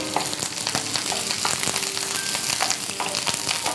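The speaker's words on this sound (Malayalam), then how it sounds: "കാര്യമായിട്ട് പൊട്ടുകയാണ് കറിവേപ്പിലയും." Curry leaves and sliced small onions spluttering in hot oil for a mango curry, a loud continuous sizzle with crackling pops throughout and no talk.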